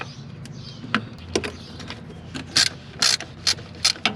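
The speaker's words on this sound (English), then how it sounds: "we're gonna take the throttle linkage off, which is 3 bolts" Ratchet clicking as three throttle linkage bolts are loosened on a 1989 Dodge Ram LE with a 12-valve first-generation Cummins diesel; close, bright bursts of rapid clicks come in short groups over a quiet garage background.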